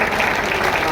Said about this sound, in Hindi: विशुद्ध कविता पर इतनी तालियां।